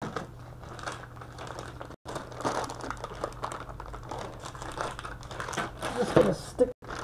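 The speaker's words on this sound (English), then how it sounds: "Bags get a little noisy, but I love having these zip bags." Plastic zip bags crinkle and rustle close by with irregular crackling handling bursts, alongside faint movement sounds.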